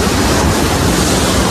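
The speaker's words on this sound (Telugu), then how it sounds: "అలలు చూసినారు ఎట్లా వస్తుంది." A steady, dense wash of surf from sea waves at Pondicherry, a continuous rushing roar with no voices.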